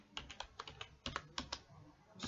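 Keys clack in a quick run as a command is typed on a computer keyboard, close and faint, with about a dozen crisp taps.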